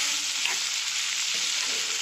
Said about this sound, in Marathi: कांद्याला अगोदर खाली मीठ लावलं का तर कांदा चांगला परतून निघते